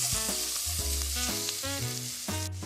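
Homemade chili with freshly added tomato paste sizzles steadily in the pot as it is stirred, a continuous hiss beneath prominent background music.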